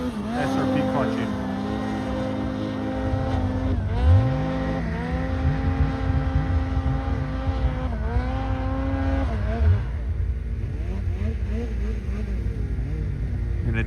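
Turbocharged 2026 Ski-Doo-style 165 snowmobile with SRP clutching, Jaws muffler and aftermarket head riding through snow, its engine droning steadily with rising and falling pitch as it accelerates, loud and close throughout.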